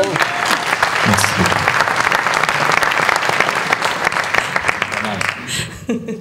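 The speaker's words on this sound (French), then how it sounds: "Je vous remercie d'applaudir Régis" An audience at an evening business awards gala applauds warmly for about six seconds, a thick sustained wash of claps that thins toward the end, with a few voices audible beneath.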